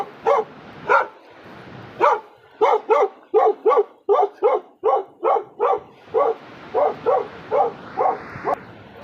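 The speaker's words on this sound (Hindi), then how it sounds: "ये देखिए कुत्ते" Dogs bark in a long, rhythmic run of sharp, close barks, some quick doubles, on a mountain pilgrim trail near Mana village by Badrinath on the Swargarohini route.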